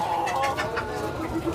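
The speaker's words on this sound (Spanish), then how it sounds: "Acá se miran unos kikirikis" Chickens and roosters at the Canton, Texas flea market give off clucks and calls in a busy mix, with a few brief sharper calls standing out over a continuous backdrop of birds.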